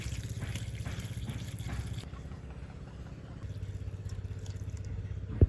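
Water trickles faintly as it is poured onto red crabs in a pot for boiling during village cooking, a quiet, continuous running sound.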